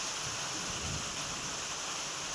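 Heavy rain falls in a constant, close roar of broadband hiss. A few faint low thumps sit beneath it, and no one speaks.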